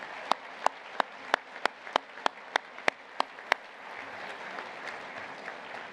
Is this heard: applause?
yes